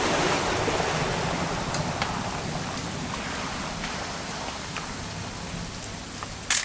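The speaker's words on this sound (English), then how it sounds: "It's gonna rain the whole weekend, isn't it?" Steady heavy rain pours down in What Remains of Edith Finch, a dense continuous hiss of drops on surfaces with faint scattered patters, fading slightly before a brief knock at the end.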